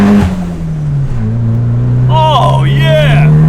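A turbocharged Mitsubishi Lancer pulling hard in first gear, its engine drone rising steadily in pitch from inside the cabin while people talk and shout excitedly over it.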